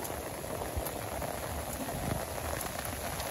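Steady rain patters on surfaces in a Bangladesh village, a close, even hiss of countless drops with no voices and no letup.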